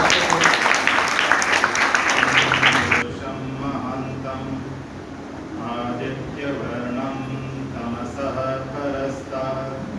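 Audience at a girls' school program in Gopalapuram clapping for a student performance, dense applause for about three seconds that then stops as a voice begins talking over a low hum.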